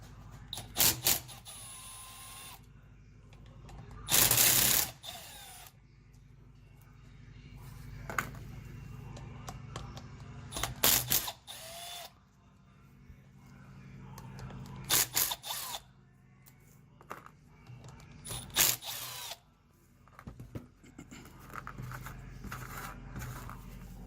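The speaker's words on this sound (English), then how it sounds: "It's a T25 Torx, so we're going to bust them loose." Torx T25 bolts on a transmission valve body being broken loose with hand tools, giving sharp clicking ratchet bursts and metallic clanks in irregular spurts separated by quieter pauses, close by.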